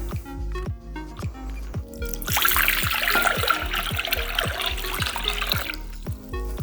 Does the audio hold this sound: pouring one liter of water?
yes